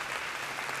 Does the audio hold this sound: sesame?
no